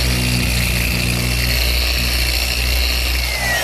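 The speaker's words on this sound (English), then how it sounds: "I'm just rounding the corners of the leaves," A power sander rounds the corners of walnut tabletop leaves with a steady, close, high whine and hiss that holds at an even level, its low tone shifting slightly as it moves along the wood.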